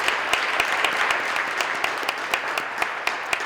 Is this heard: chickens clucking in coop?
no